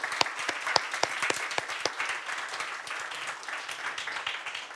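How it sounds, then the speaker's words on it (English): Audience applause for the speakers at the close of a policy panel event, dense steady clapping from a sizeable crowd that holds for several seconds without talk. "I'd like to ask you to join me in giving an applause to the speakers."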